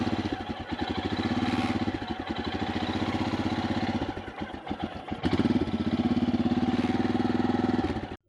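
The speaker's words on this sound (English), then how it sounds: "First warm up the engine so that the oil inside the engine gets a little bit thinner" A Royal Enfield Himalayan motorcycle engine idles while warming up before an oil change, a steady close thumping putter that dips briefly midway and then settles back before cutting off at the end.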